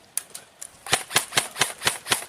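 Airsoft gun firing during an outdoor skirmish: a few scattered sharp cracks, then a steady run of about six evenly spaced, snappy shots, close and loud with no talk over them.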